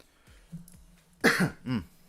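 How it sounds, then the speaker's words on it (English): A couple of harsh coughs close to the microphone, the second shorter, after a few quiet clicks and thumps. "Trying to cough into the mic"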